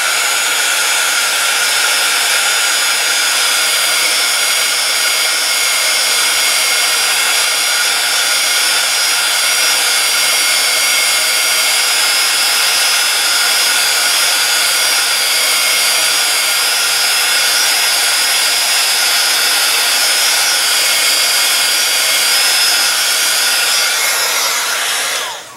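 Heat gun blowing continuously during a heating demonstration, a loud, steady, close whooshing roar that holds unchanged for the whole stretch before cutting off at the end.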